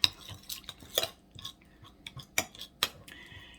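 Soy sauce being stirred into a sauce for collard green spring rolls: scattered light clinks and scrapes of a utensil against a bowl, close and irregular, with no talking.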